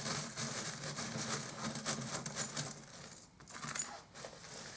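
Small metal charms jangle and clink continuously as they are handled up close, a busy rattling texture with no voices.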